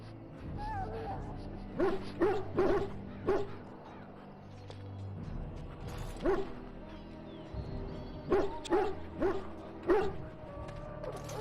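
Hounds in the Dragon Age: Origins army camp at Ostagar, some sick, give repeated barks, yips and whimpers in clustered bursts over ambient game sound.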